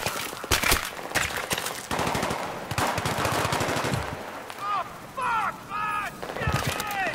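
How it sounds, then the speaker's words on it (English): Rapid automatic gunfire bursts in the shooter game Battlefield 3 during co-op play, loud sustained rattling volleys that stop and restart, with a voice talking over the shooting. "Pop out, pop off some shots, then come back inside."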